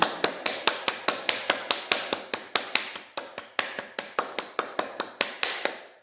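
Fingers tap out a steady rhythm on a hard surface during a finger-exercise routine, sharp close knocks evenly spaced at roughly four per second, alone with no talk.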